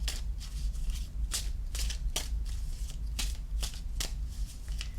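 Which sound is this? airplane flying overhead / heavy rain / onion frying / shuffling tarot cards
shuffling tarot cards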